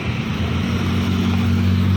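A Putra Pelangi non-stop bus on the Banda Aceh–Medan route passes close by, its engine a loud, steady droning rumble throughout.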